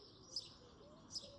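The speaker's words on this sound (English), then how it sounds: "Can you hear the birds singing about it?" Two faint, brief bird chirps spaced about a second apart at a quiet outdoor wharf, heard alone over a soft background hush.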